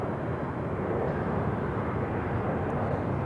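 An airliner at Raleigh Durham International Airport sends out a loud, continuous broadband engine roar that stays steady and close throughout, with no voices.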